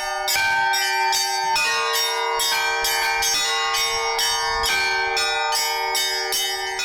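Church bells ringing loudly and continuously, several bells striking in overlapping peals with rich ringing overtones, no voices.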